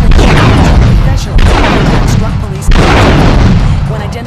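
Explosions in the GTA 3 intro cutscene: heavy booming blasts that land in three repeated surges, each followed by rumbling debris, loud and close, with a narrator speaking over them.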